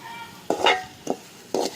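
Onion and green chili frying in oil in a pan as they are stirred, heard as three short scraping stirs with a soft sizzle in between.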